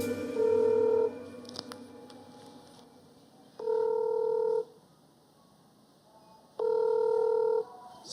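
An outgoing telephone call rings unanswered: three evenly spaced ringback tones, each about a second long, repeat every few seconds over a quiet background with no talking.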